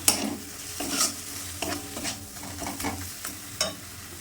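Kashmiri chili powder, red chili powder and turmeric powder stirred in a frying pan of hot oil for a Bata fish kalia, with a spoon scraping rhythmically every second or so over a steady sizzle.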